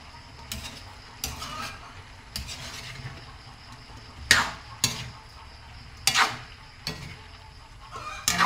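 Sautéed malasugi fish with vegetables is stirred in a pan, giving irregular sharp scrapes and clacks of the utensil roughly every second over a steady, soft background sizzle, with no talking.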